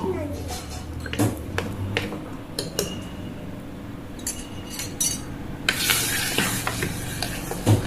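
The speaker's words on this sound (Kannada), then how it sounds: "ಎಣ್ಣೆ, ಜೀರಿಗೆ, ಸಾಸಿವೆ, ಒಗ್ಗರಣೆ ಹಾಕಬೇಕು" Curry leaves, cumin and mustard seeds sizzle and crackle in hot oil while a utensil stirs and clinks against the pan, with short quiet pauses between bursts.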